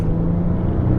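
Maserati Levante S engine idling or cruising with a steady low rumble and a constant drone, heard from inside the leather-trimmed cabin with no voices.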